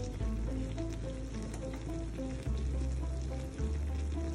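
Chicken sausages cooking in a covered pan with water, a steady close sizzle and bubbling hiss with a low rumble, continuous and alone with no voices.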